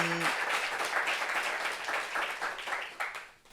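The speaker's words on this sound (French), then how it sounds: "il y a Fofana Kadidiatou, qui est là aussi, qu'on va applaudir s'il vous plaît" Studio audience applauding a guest on a French talk show about depression and suicide, a full burst of clapping that starts strong and gradually thins and fades toward the end.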